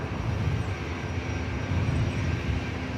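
A Lufthansa Boeing 747 jumbo jet pushes back at Los Angeles International Airport, its engines producing a steady broad roar and whine, continuous and moderately loud from a distance with no talk over it.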